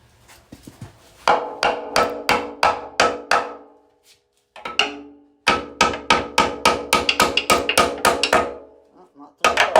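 Ball peen hammer blows on a 1955 Chevy frame, knocking out a riveted transmission horn: two loud, close runs of sharp metallic strikes in steady rhythm, separated by a short pause, with a few lighter taps at the end.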